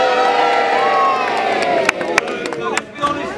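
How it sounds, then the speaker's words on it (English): A crowd cheers and claps at Warwick Castle as the gate is lowered, a loud sustained roar of voices with a few sharp claps near the end. "Give me a cheer for the gate of Warwick closed."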